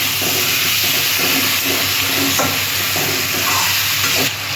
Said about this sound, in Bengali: এটা মশলার সাথে আমি কষিয়ে দিই